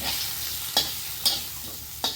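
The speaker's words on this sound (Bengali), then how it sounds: "আর এদিকে দেখো মাছ ভাজা বসিয়ে দিয়েছি" Fish frying in a pan keeps up a steady, close sizzling hiss, broken by three short scraping stirs spaced unevenly across the two seconds.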